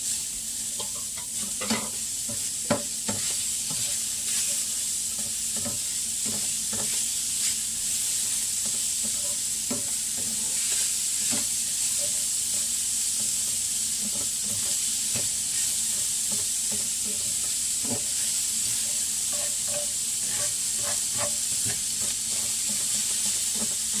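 Greens with cilantro stirred in a hot pan until wilted, giving a continuous close hiss and sizzle with repeated scraping strokes throughout.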